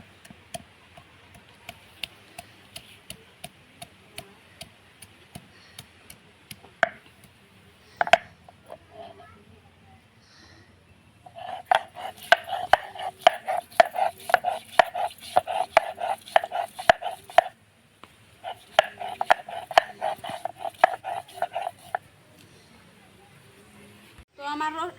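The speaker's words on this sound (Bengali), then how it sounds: "আদা রসুন বাইটা নুমু।" Ginger and garlic being ground into paste, likely on a stone slab while cooking duck, heard as bursts of rhythmic scraping and rubbing strokes over a quiet room with a dog barking and faint talk.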